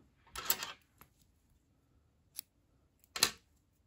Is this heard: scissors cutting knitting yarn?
yes